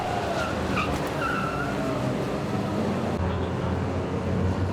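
Engines roar steadily as cheap race cars skid during a 24 Hours of Lemons endurance race, with brief tire squeals rising over a dense, continuous racing din; faint voices may be buried in the noise.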